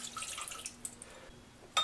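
Water being poured into a pot for a stovetop sugar syrup, a brief light splashing trickle that ends in one sharper splash.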